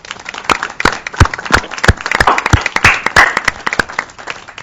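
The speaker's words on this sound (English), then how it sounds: "So if I could offer a round of applause for Phil." A small meeting audience at a task force session gives a round of applause, with distinct individual claps from a modest group, loud and close, thinning toward the end.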